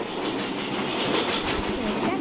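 New York City subway train running on the 1 line, a steady rumbling roar with rhythmic wheel clatter on the rails, loud and continuous throughout.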